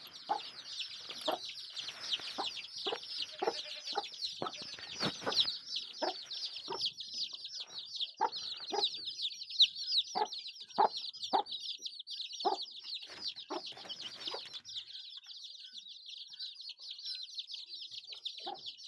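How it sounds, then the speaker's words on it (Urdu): Hens cluck in short, repeated bursts over a continuous chorus of high, shrill peeping from a brood of chicks. Both stay close and lively the whole time, and no one speaks. "یہ ہماری مرغیاں ہیں، مرغی کے چوزے"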